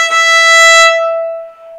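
A violin bow stroke played quicker sounds as a single bright, clear sustained note, close and loud, ringing alone for under two seconds before easing off.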